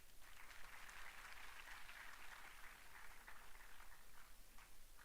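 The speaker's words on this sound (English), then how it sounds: "Please energize your claps" An audience applauds at an annual university lecture during a bouquet presentation, dense continuous clapping that holds steady for five seconds, faint and distant in the hall.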